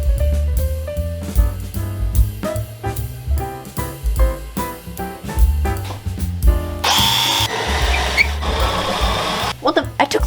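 A power drill removes screws in a workshop, buzzing in repeated short bursts that stop and start, then ends with clattering and scraping of loose parts.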